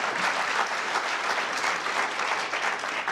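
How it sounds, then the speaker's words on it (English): An audience applauds a panel of student storytellers, a dense, steady wash of clapping from many hands that holds evenly throughout. "round of applause for these amazing storytellers"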